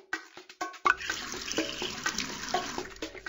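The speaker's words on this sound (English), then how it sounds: "Click on the watering trough to give our pony a drink." Splashing, gurgling water pours into a pony's watering trough in a Dora the Explorer video game, with a few quick bursts at first and then a continuous, close, fairly loud stream.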